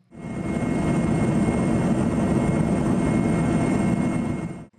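Military Mi-8 or Mi-17 helicopter in flight, a steady, loud rotor and engine roar holding constant throughout with no pauses or voices.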